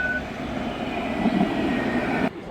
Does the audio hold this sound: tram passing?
yes